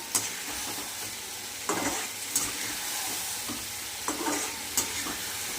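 Parshe fish curry with potol (pointed gourd) and potato being stir-fried in a pan, a steady broad sizzle broken by repeated scraping strokes of the spatula, no voices.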